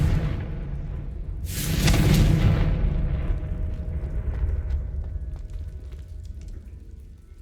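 A blasting-spell explosion in Hogwarts Legacy, a sudden loud booming burst with crackling debris that swells over about a second, then rumbles and slowly fades into quieter ambient noise.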